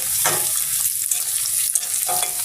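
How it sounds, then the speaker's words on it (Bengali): Onion, bay leaf, cinnamon and cardamom fry together in hot oil for a shing fish curry, giving a steady close sizzle broken by several stirring scrapes. "পেঁয়াজ তেজপাতা দারচিনি এলাচ একসাথে ভেজে নিচ্ছি"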